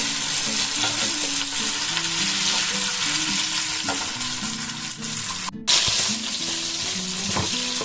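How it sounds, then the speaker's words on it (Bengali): Soybean chunks coated in cornflour sizzle steadily in hot oil for chili soybean, a dense continuous frying hiss with occasional stirring scrapes and a brief break near the end. "এটাকে ভেজে দেবো"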